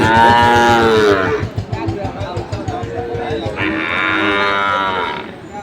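Sahiwal bull calves mooing at a busy cattle market, several loud, drawn-out calls close by, one after another, with market chatter and voices underneath.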